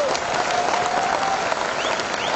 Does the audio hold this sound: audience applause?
yes